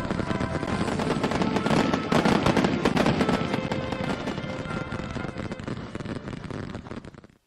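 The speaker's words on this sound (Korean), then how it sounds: "마을에서는 새집들이 경사를 더해주며 불꽃놀이가 진행되고" Fireworks crackle and burst in dense, continuous volleys at a village celebration in Heochon County, South Hamgyong, loud throughout and fading near the end.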